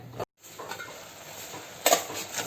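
Kalan curry with coconut paste bubbling in a pot while a spoon stirs it, a soft steady simmer with scraping strokes and a louder clatter near the end, no talking.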